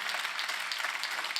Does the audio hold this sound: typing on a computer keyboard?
no